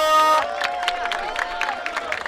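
An audience at a Batalha do Forte rap battle in Cabo Frio shouts and cheers for the rapper, a brief loud burst that settles into scattered claps and calls.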